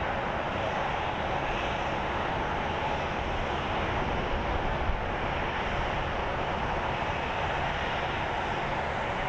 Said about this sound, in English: Taking off into the cloudy Arizona skies.